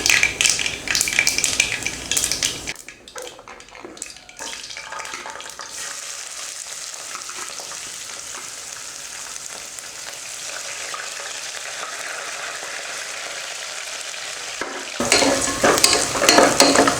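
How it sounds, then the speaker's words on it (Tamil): Onion, green chilies, dried red chilies and garlic sautéing in hot oil with mustard seeds and cumin in a pressure cooker, a loud close sizzle with stirring that drops to a quieter hiss midway before swelling again. "வெங்காயம் பச்சை மிளகாய் வரமிளகாய் பூண்டு எல்லாம் ஒன்றாவே போட்டு வதக்கியாச்சு"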